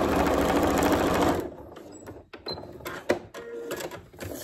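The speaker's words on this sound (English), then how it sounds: "Slide it under your foot and then sew along the line again." A sewing machine stitches quickly along a foundation paper piecing line for mini flying geese blocks, a short burst of rapid whirring that stops abruptly, then quiet clicks and rustling of fabric and paper.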